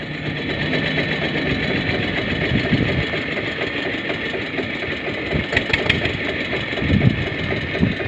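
An Eicher tractor engine runs at idle nearby in rainy weather, producing a loud, continuous mechanical rattle with a few sharper knocks toward the end and no speech over it.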